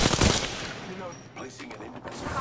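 Rapid gunfire from the video game Apex Legends, a loud burst of automatic shots up front followed by scattered further shots and game effects, with a voice talking underneath.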